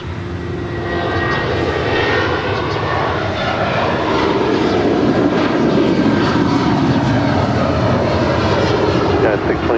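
An American Airlines airliner takes off from runway 25 right at LAX, its engines a loud, sustained broadband roar that swells steadily, with speech faintly audible beneath.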